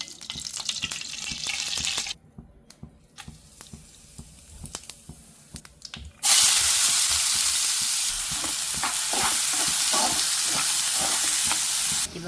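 Ginger, garlic and green chilli paste frying in a pan, a loud, steady sizzle with brief quieter stretches and stirring scrapes, flaring up again strongly partway through and staying intense.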